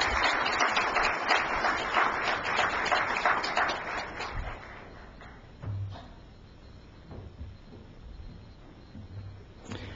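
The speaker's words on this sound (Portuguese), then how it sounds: "Recebam com suas palmas" An audience at a university seminar applauds a guest taking her seat at the panel, clapping for about four seconds before fading into quieter room noise with a few thumps.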